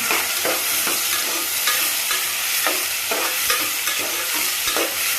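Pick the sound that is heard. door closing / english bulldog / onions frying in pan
onions frying in pan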